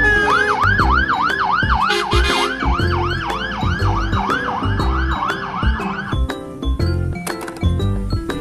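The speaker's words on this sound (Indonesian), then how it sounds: "Wadidaw, kalau ini mobil pemadam kebakaran." A toy fire truck's electronic siren wails in rapid, repeating up-and-down sweeps, loud and close, then cuts off, leaving busy clattering toy noise behind it.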